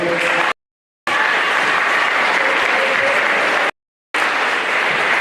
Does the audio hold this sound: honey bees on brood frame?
no